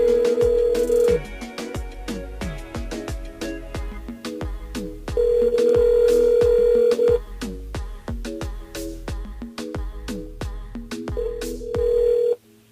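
A call to a mobile phone during a French-language radio broadcast rings out repeatedly, each ring a short bright tone burst in a steady pattern, with loud rhythmic background music and a few low thumps running throughout.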